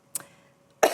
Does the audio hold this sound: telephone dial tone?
no